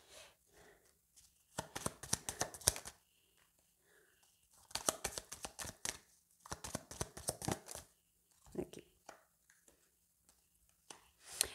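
Tarot cards are shuffled in three bursts of rapid, close, crisp riffling, with quiet pauses and soft handling sounds between them.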